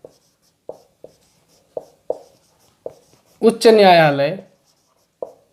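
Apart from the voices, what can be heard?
teacher writing on a board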